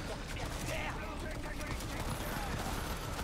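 Rapid automatic gunfire in Cyberpunk 2077 rattling in dense bursts amid combat noise, loud and continuous, with a voice speaking over it.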